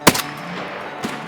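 Two gunshots in an Escape From Tarkov firefight: a sharp, loud crack with a short echoing tail, then a softer, more distant shot about a second later.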